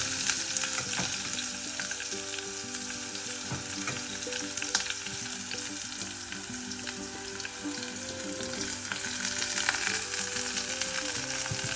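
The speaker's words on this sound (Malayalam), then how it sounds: "എല്ലാം കൂടി ഇട്ടൊന്ന് വഴറ്റുക" Green chillies, crushed garlic and ginger sauté in a pan for a peppery chicken liver fry, giving a continuous close frying sizzle with occasional stirring scrapes and no talk.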